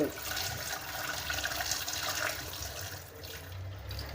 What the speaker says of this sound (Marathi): आता हे पाणी ओतून काढणार आहे हळूहळू ओतून काढायचं आहे